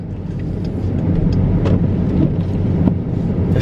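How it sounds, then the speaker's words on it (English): A pickup truck drives through snow during a winter storm, a low continuous engine and road rumble heard from inside, with some wind buffeting and no talking. "This pickup truck obviously has major traction because it is like hauling back through there."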